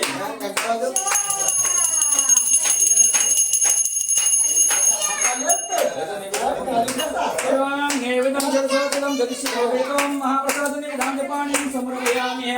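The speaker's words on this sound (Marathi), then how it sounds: "घंटा वाजवायची." A small handheld puja bell rings steadily and brightly during Ganpati worship at home, close and continuous, as a voice chants over it before the bell stops and the chanting carries on.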